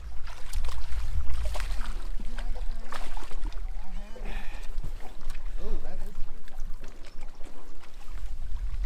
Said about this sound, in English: The wind has come up on us